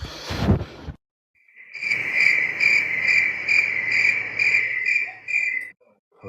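Crickets chirp as an inserted effect, a steady pulsed trill that starts after a short burst of noise and runs evenly for about four seconds before cutting off abruptly.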